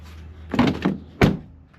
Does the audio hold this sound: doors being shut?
yes